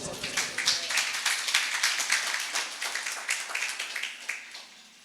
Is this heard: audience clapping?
yes